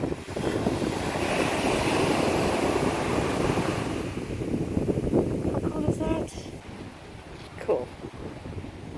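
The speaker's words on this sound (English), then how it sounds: "Oh, here comes a big wave." A big ocean wave rolls in and breaks at Tamarin beach, Mauritius, a loud, sustained rush of surf with wind noise on the microphone, fading into quieter wash with brief voices near the end.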